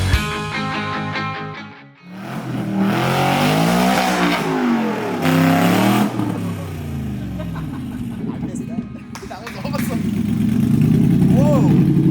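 A Shelby car engine revs and idles nearby while the car is moved around inside a building, with rising and falling engine tones and people talking over parts of it.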